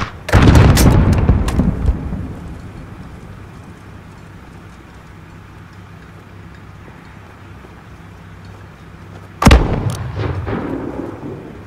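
Mortar fire in Call of Duty: Modern Warfare, a heavy crash of impacts followed by rumbling debris, a quieter lull, then another loud blast and trailing rumble near the end.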